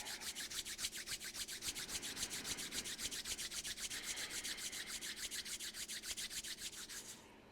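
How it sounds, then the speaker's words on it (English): Palms rubbed briskly together during a short yoga flow, making a dry, rhythmic swishing of quick, even strokes that continues for several seconds and then stops. "Bring the palms together, rubbing again. Creating that friction to build up heat."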